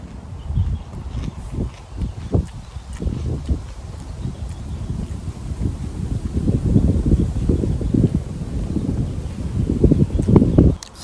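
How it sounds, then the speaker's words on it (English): Wind gusting outdoors on a cold, blustery day, a steady low rumble of buffeting against the microphone that swells and strengthens toward the end, with no voices. "It's just a very nice windy day today."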